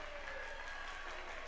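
A basketball gym crowd at a boys high school game erupting in sustained cheering and applause, a steady dense roar from many voices with no break.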